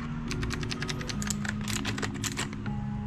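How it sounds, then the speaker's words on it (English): Clicky keystrokes from a Gigaware K550 budget mechanical gaming keyboard with blue switches, tapped in a steady, fairly quick rhythm close by, with sharp individual clicks over a low background hum and no talking. "I'm really obsessed with mechanical keyboards with blue switches"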